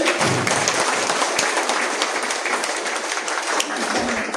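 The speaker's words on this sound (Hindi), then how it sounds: "एक बार जोरदार तालियां प्रिंसिपल सर के लिए।" Audience applause for a school principal at a Jawahar Navodaya Vidyalaya function, steady dense clapping with scattered sharp claps throughout, fairly loud and continuous.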